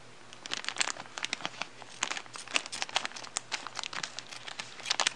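Scissors cut open the packaging of a Minolta 62mm lens cap, with rapid, close crinkling and snipping crackles that come in uneven bursts.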